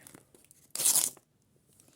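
A paper surprise packet torn open along its perforation in one quick, bright rip of about half a second, close and alone amid faint handling rustles.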